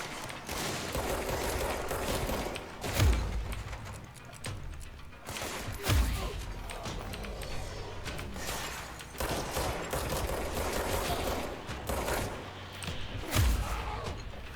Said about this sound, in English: I'm getting the hang of the mixing the melee attacks with the gunfire a little bit.